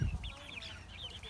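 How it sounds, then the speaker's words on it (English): Chickens in a backyard flock, among them a black rooster, give soft clucks and a few wavering chirps, faint and fairly close, with a low bump at the start. "that black one right there is a rooster, and that one's a female right there."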